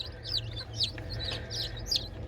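High, repeated chirps from newly hatched chicks from an incubator over a steady low hum, several short calls in quick succession at close range.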